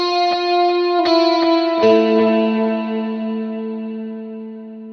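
A PRS electric guitar in the 4 pickup position with all effects on rings out a few sustained chords, shimmering with chorus and echo and fading slowly, clear and unaccompanied.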